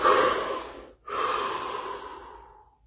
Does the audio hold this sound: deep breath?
yes